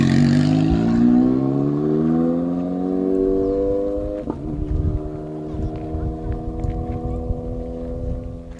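A rally car's engine drones as it pulls away from the time control at the end of a gravel stage, its pitch slowly rising and then fading, with outdoor wind noise and scattered bumps afterward.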